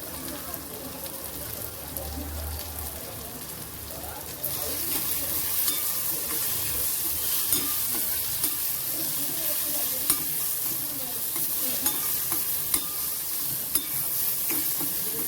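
Spice tempering with garam masala, Kashmiri red chili powder and turmeric sizzles in a pan, a dense steady hiss that grows louder partway through, with repeated light scrapes and taps of stirring throughout.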